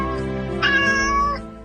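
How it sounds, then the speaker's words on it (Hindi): A small kitten wrapped in a soft shoe lets out a single drawn-out meow, close and clear, over a low steady background hum. "अनीता ने ये देखा, एक बिल्ली का बच्चा नरम जूते में लिपटा हुआ था।"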